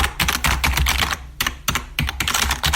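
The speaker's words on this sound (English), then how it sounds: "If you don't mind a little keyboard noise, I'll look it up." Rapid clatter of typing on a computer keyboard, close and steady in bursts with brief pauses between runs of keystrokes, no voices.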